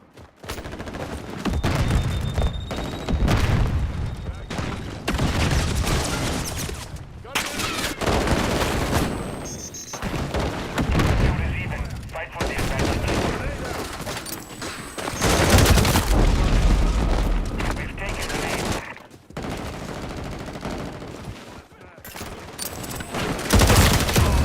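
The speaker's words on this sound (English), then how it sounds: "Taking heavy fire." Intense, sustained gunfire and explosions in Modern Warfare 4 multiplayer, with dense, loud volleys and booms throughout, continuing almost without a break.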